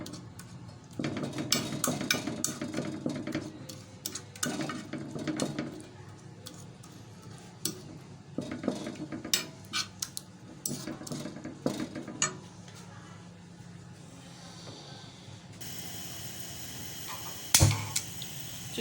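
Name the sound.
mashing garlic and tomato together for chutney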